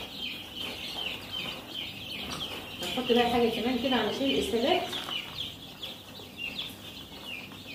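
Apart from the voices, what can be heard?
young domestic chickens chirping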